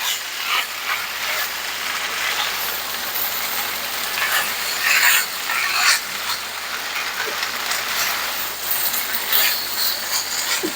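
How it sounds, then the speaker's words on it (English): Enchilada filling with cooked chicken being stirred in a pan on the stovetop, a steady close scraping and rustling with faint sizzle running throughout. "I'm going to carefully try and mix this all together without it spilling onto the stove top"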